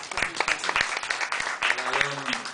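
Applause breaks out from an audience at a literary and arts café gathering, scattered individual claps mixing with voices talking and calling out over the top throughout.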